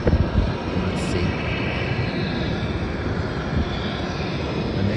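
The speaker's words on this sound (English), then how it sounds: "The next flight is a Jetstar flight from Melbourne to Sydney, and that's departing now." Jetstar airliner departing on a Melbourne to Sydney flight, a loud, steady jet engine roar filling the whole stretch with a slight swell at the start.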